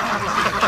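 Free-range ducks quacking continuously at close range, a dense busy flock with overlapping calls and no talk.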